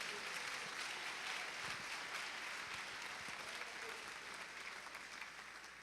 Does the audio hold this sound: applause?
yes